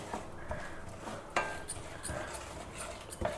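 Metal spoon scraping and clinking against a heavy kadai while semolina fries in ghee over a low to medium flame, a series of irregular soft taps and scrapes, close and fairly quiet.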